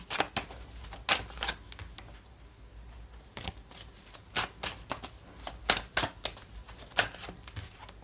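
Tarot cards being shuffled by hand, crisp riffling and slapping bursts in irregular clusters, close and clear with no talking.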